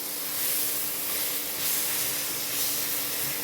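Coriander leaves frying in oil in a pan for a Bangladeshi begun bharta, a steady hiss and sizzle running evenly throughout with no talking.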